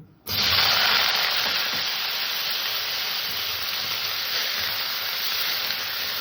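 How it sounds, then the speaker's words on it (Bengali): Two medium-sized potatoes, cut into small dice, hit hot oil with a sudden loud sizzle, which then settles into a steady, bright frying hiss that runs alone to the end. "আলু দুটোকে একটু ভেজে নেব"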